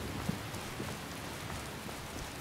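Steady rain falling in a Skyrim game world at a city market, a constant even hiss of drops with a few faint taps, moderately loud and continuous with no voices.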